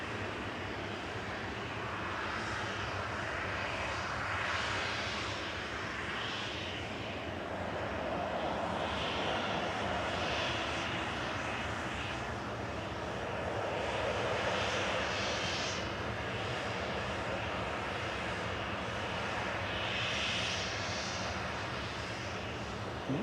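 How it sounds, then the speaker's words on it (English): Ryanair jet airliner departing Manchester Airport for Malaga, a steady broad engine roar that holds at a fairly even loudness throughout, heard from a distance with no talk. "this Ryanair in front of us, flight 3232 is about to depart to Malaga."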